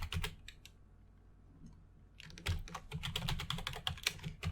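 Fingers type Python code on a computer keyboard, a quick run of close clicky keystrokes, pausing briefly near the start and then resuming in a dense, uneven burst.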